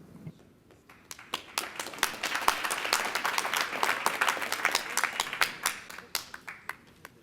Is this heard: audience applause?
yes